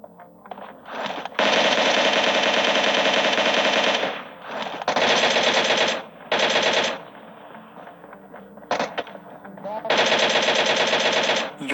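Rapid automatic gunfire in a video game battle, loud bursts of several seconds each broken by short pauses, with a few quieter single shots between them.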